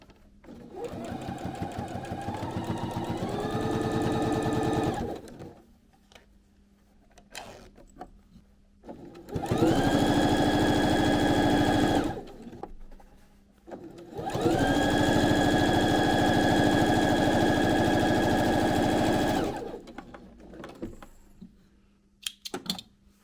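A sewing machine runs a straight stitch through fabric for a small pencil case with a bookmark, in three loud, steady bursts separated by short pauses.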